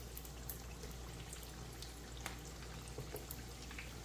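Pulled pork eggrolls frying in hot oil, with a steady crackling, bubbling sizzle that continues close and fairly quiet throughout, with scattered sharper pops.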